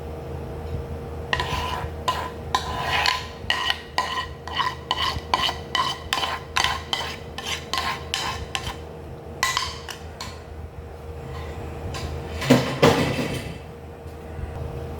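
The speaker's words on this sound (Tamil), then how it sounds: "இப்போ சோஸை ஸ்பெகட்டிக்கு ஊற்ற வேண்டியதான்." Sauce being poured over spaghetti for chicken cheese spaghetti, followed by stirring and mixing in a pan or bowl, with repeated soft scraping and clinking strokes at a moderate level, no talking.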